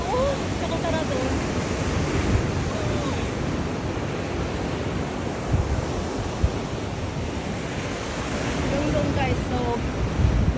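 Sea waves at a beach roll in with a continuous broad wash of surf under strong wind buffeting the microphone, swelling and easing in slow surges over ten seconds.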